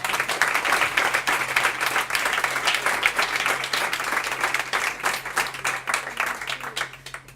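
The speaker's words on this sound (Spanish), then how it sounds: "Un aplauso para Luis, por favor." Audience applause at a Halloween PechaKucha presentation night, steady and dense clapping from a sizable crowd that holds for about seven seconds before beginning to thin at the end.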